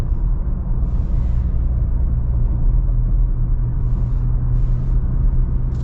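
A Ford Raptor V6 engine rumbles steadily while driving, a loud continuous low drone heard from inside the cabin with road noise and a few faint hissy bursts over it.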